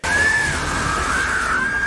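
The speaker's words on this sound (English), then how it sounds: "the snake screams" A snake in the film Anaconda gives a long, loud, sustained screeching scream that wavers in pitch and carries on without a break, with no speech over it.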